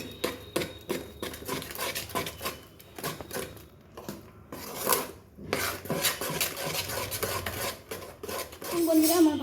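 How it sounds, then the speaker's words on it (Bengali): Butter being beaten with milk in a pan for a Holi poua batter, rapid rhythmic clattering of a utensil against metal, close and fairly loud, with brief pauses. "বাটারটা এবারে আমি ফাটাতে থাকছি।"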